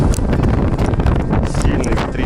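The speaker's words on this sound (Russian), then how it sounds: "Смотрите, как дует ветер, просто сшибает с ног." Strong wind roars steadily across the microphone outdoors near Astrakhan on a fishing outing, a loud continuous buffeting rush with no pauses.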